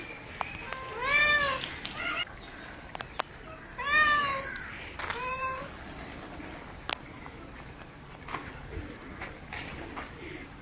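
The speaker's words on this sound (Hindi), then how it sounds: "तो ये बिल्लियाँ बैठी हुई हैं" Cats sitting in a home courtyard give a few separate rising meows, fairly close, spaced over several seconds, with faint cooing birds and light household background noise.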